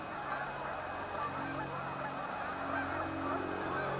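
Geese honk continuously in a noisy flock, a dense outdoor chorus of calls at moderate distance without talking.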